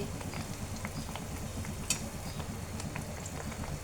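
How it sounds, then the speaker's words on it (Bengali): Powdered-milk amriti dessert frying in hot oil, a dense continuous crackling sizzle with faint scattered pops and a light clink or two, steady and close with no voices. "তো এইভাবে আমি সবগুলো ভেজে নেব। আমি ভেজে নিচ্ছি।"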